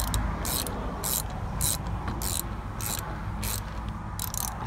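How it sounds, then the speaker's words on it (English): Ratchet tightening a car battery terminal bolt: repeated quick clicking strokes in a steady rhythm, close and moderately loud over a constant low background rumble. "I'm just gonna tighten down the bolt"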